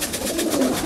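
Pigeons coo continuously at close range, several overlapping low throaty calls in a steady rolling murmur, recorded beneath their loft.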